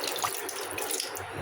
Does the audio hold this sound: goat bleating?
no